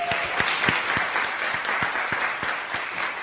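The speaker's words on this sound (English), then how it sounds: "A round of applause." An audience claps at a justice conference and rally in a university room, a steady, moderately dense round of applause with some distinct rhythmic claps near the microphone.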